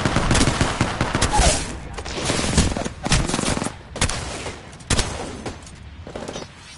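Dense, sustained gunfire in the video game Apex Legends, with overlapping automatic bursts and heavy single shots that are loud and close, flowing almost without a break.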